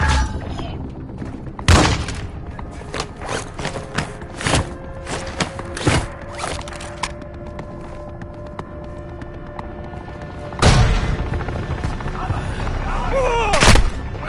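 Video game gunfight with bursts of gunfire and heavy booming impacts, loud sharp shots scattered irregularly over a constant rumbling hum, with a couple of big blasts standing out.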